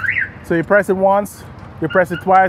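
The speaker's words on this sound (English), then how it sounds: "Once I put it back in, the alarm will go off." A 2023 Freightliner M2 106 truck's alarm system chirps in short bursts, rising and falling tones, interleaved with someone talking nearby.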